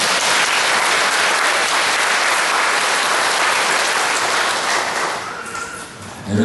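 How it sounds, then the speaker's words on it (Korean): A church congregation claps together to welcome the children, a thick, even burst of applause that holds for about five seconds before tapering off. "우리 어르신들은 저 우리 어린 친구들 박수로 환영하겠습니다"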